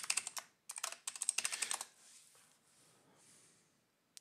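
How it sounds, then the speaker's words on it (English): Password being typed on a computer keyboard: quick bursts of crisp, close key clicks in two short runs, then quiet room tone. "We're going to type our password."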